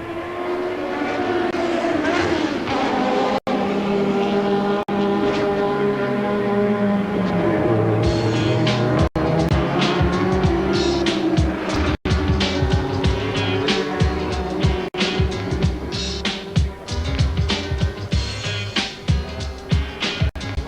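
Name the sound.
Formula Pacific race cars racing at Wellington street race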